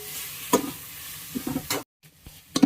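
Tomatoes sauté with half a spoon of turmeric for cauliflower kurma, giving a steady close sizzle broken by a few sharp spatula stirs and clinks, with a brief silent gap near the end.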